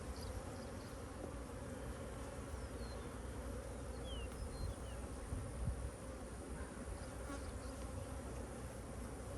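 Honey bees at hives in a cow pasture apiary, a dense continuous buzzing hum close by, with individual bees zipping past now and then over the steady swarm drone.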